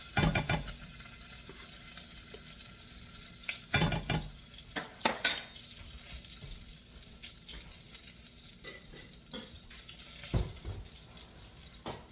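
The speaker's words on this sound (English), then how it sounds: "this whisk is finer to make sure I don't end up with particles of lumps" A fine whisk stirring a tarragon-lemon sauce for chicken and rice in a pot, with sharp metallic clinks and scrapes in short bursts between quieter stirring, no talking.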